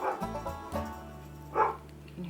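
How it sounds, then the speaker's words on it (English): Several dogs bark in short bursts, fairly close, with a yelp and overlapping woofs across a couple of seconds. "You can hear the dogs barking for about something out there."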